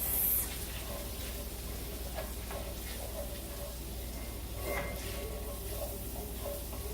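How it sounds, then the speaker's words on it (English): Flour stirred into sausage meat frying in a pan, a steady low sizzle with soft scraping strokes of a utensil recurring throughout, close and moderately quiet. "I'm stirring in that flour into the meat"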